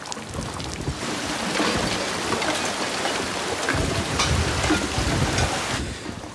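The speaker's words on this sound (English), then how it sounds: "When the storm hit, it wasn't just rain." Heavy storm rain pours down in a dense, steady roar with low rumbling undertones, loud and continuous with no voices.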